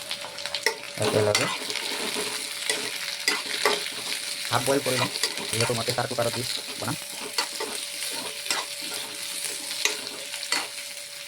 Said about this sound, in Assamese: আলুটো ভাজি ল'ম